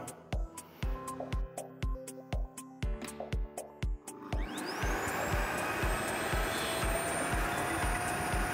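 A Parkside Performance PPWD 30 B2 workshop wet-dry vacuum, running without load, gives a run of steady rhythmic pulses, then its motor spins up with a rising whine into a loud, constant roar heard up close.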